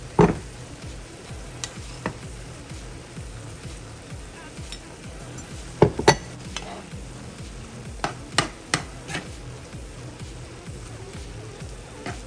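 Ground meat, a little over two pounds, frying for tacos as onion goes into the pan: a steady close sizzle with scattered sharp clicks and scrapes of stirring, a few louder clatters midway.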